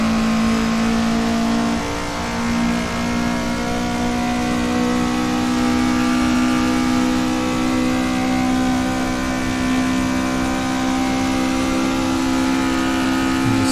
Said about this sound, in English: You just hear that 4-cylinder 20-valve engine absolutely screaming, working its hardest